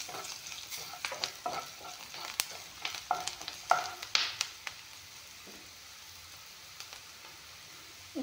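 Cumin and dried chili powder frying in oil in a home cooking pan, soft steady sizzle with sharp scraping stirs and taps of a spatula, busiest early then settling to a quiet hiss.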